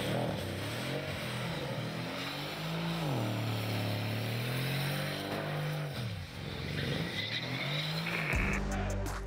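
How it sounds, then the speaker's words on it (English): A car with no license plate spins a donut, its engine roaring and pitch swinging up and down as the tires squeal continuously, loud and close, with no talk over it. "As a little taste, our tour serves a so-called donut."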